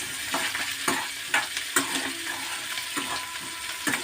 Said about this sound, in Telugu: కట్ చేసుకున్న ముక్కలన్నీ కూడా ఇలా ఆయిల్లో వేసుకొని వేపుకోవాలండి.